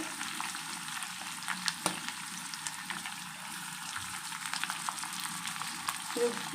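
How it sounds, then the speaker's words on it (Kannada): Onions frying in a pan for a beans and carrot palya give a steady, close sizzle that runs throughout, with a few sharp crackles and pops breaking through. "ಚೆನ್ನಾಗಿ ಫ್ರೈ ಮಾಡ್ಕೋಬೇಕು ಈರುಳ್ಳಿ ಹಾಕ್ಕೋಬೇಕು"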